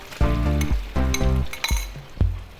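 Chicken pieces hit a pan of frying chorizo and sizzle hard, with three loud clattering bursts of tossing and utensil clinks over a continuous crackle, all close and without any talking.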